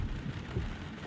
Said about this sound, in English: nothing much too exciting happening other than some rain falling